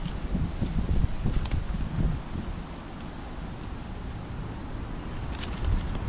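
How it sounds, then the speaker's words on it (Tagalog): Wind gusts buffet the microphone at a lakeside fishing spot, rumbling in bursts early on and then settling into a steady outdoor rush. "Buti na may hangin."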